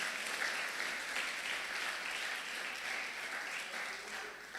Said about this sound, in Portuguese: pode aplaudir então bem forte.